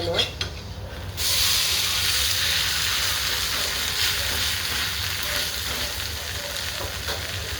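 A fasting-style thalipeeth fries in ghee on a pan, a broad hissing sizzle that swells suddenly after a second and then holds steady and close.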